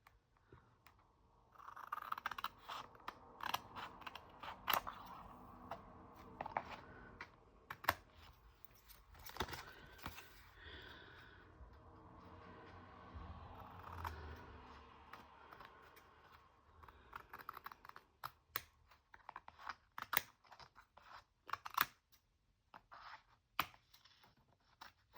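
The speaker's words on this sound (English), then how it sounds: "just need to trim a little on the side where I got it a little crooked" Scissors trimming the crooked side edge of a paper planner page, giving quiet, irregular close snips and crisp paper rustles over about twenty-five seconds, with no talking.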